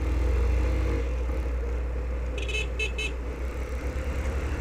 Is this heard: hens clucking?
no